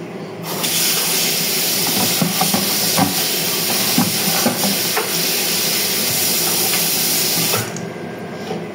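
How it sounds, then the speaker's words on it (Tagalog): Food being sautéed in a pan gives off a loud, steady hissing sizzle that starts abruptly, holds for several seconds and then cuts off. "Gigisa ko lang po siya."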